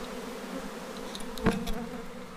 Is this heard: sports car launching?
no